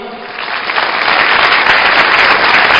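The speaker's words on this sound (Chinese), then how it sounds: "掌声欢迎。" Theater audience applauding to welcome Yue opera performers at a Zhejiang Yue opera Spring Festival gala, a dense wash of clapping that swells and stays loud and steady throughout.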